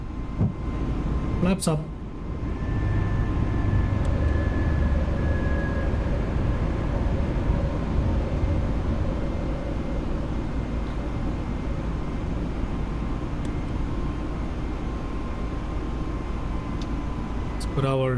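A320neo jet engines roaring steadily during the takeoff climb in Microsoft Flight Simulator, a loud continuous broadband rumble throughout, with a brief spoken callout near the start.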